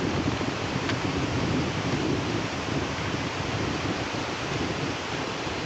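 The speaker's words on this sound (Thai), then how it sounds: "ขนาดลมเย็นนี่พี่น้องเอ้ย" Cool wind blowing steadily through an outdoor forest while someone digs alone, a continuous broad rushing hiss with no pauses and no talk.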